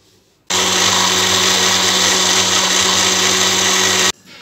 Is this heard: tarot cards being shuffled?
no